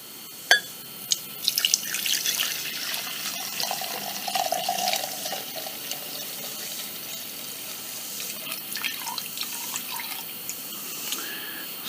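Fuel trickling and splashing into the tank of a WEN 56225i generator, a steady liquid pour with a few small knocks at the start, close by and with no talk.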